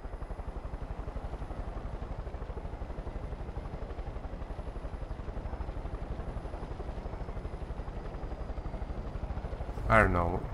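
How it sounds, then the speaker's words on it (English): Helicopter in Far Cry 5 gives a steady rhythmic rotor chop throughout, with a brief sharp burst of noise near the end. "Oh, there's a helicopter here."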